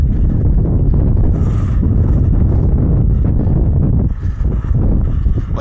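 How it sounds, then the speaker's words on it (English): Wind roars across the microphone during a dirt bike ride on a Beta motorcycle, a loud continuous buffeting rush that dips briefly near the end, with no talk. "It's a little breezy, but you know, it's not hot."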